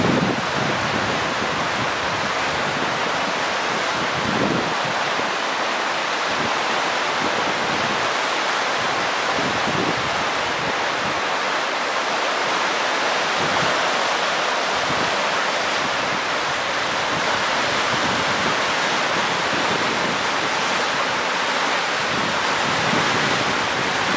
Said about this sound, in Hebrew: נחל צין שוטף, שוצף.